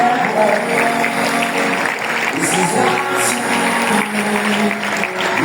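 A crowd at a seminar session applauds its Diamond-rank members, sustained dense clapping that goes on steadily under a loud voice speaking over it.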